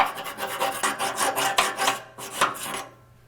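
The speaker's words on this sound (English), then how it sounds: "I want to scrape that pretty good so that this is all nice and smooth." Metal scraper rasping carbon deposits and light rust off the interior of a Harman P Series pellet stove, a steady run of quick rough strokes, close and fairly loud, pausing briefly before a final burst.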